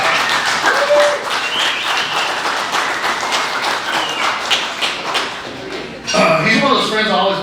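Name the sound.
audience applause at a stand-up comedy show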